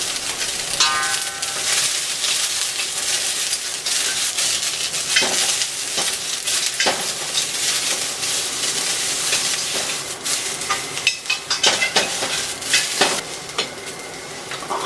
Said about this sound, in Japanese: キャベツをね、炒めます。